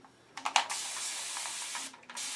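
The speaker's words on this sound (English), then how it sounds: "what I've done is I'll spray my hair with water" A spray bottle mists water onto hair in a few quick bursts, two sharp close spritzes followed by a longer steady hiss and a final short puff.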